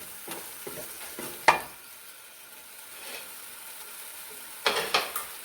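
Food is stirred in a pan, probably a chana dal and bitter gourd dish, with scattered scraping clatters of a spoon against the pan, a quiet pause in the middle, then a quick burst of stirring near the end.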